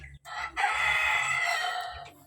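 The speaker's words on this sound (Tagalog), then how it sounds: "manok na indio gigante galing Brazil" An Indio Gigante rooster crows once, a long, loud drawn-out call lasting over a second, close by, after a short cluck.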